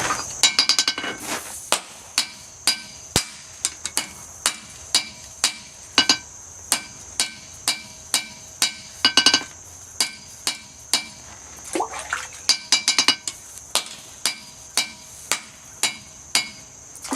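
A hammer strikes rusted steel being forge welded into a sen scraper, the blows landing in a steady rhythm at about one per second. Each hit rings sharply on the anvil, with a few quick flurries of lighter taps between them.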